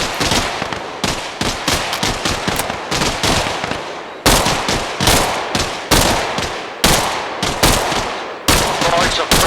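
Sustained automatic gunfire in ARMA Reforger, loud and close: rapid bursts of sharp shots keep coming through the whole passage, with brief gaps between volleys.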